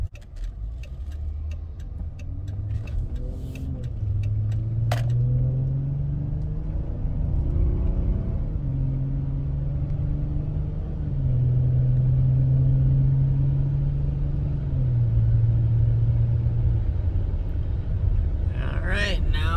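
Inside a Dodge Charger on a test drive after ABS repair, the engine and road noise give a steady low rumble with shifting engine tones as the car speeds up, a brief click partway through, and no talking over it.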